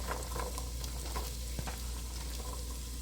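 Potato pieces drop into a pot of potato soup as it sizzles, with a steady frying hiss and a single soft clunk partway through.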